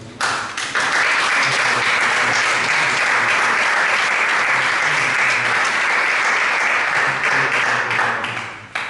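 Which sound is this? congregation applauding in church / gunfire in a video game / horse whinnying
congregation applauding in church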